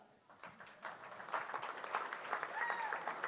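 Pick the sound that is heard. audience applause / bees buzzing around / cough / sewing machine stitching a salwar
audience applause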